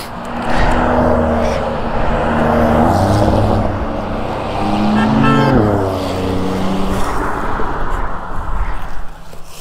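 A group of Porsche cars drives past on a rural North Georgia road, engines rising and falling with a passing sweep midway, heard from a motorcycle ride under steady engine and wind noise, with people talking over it.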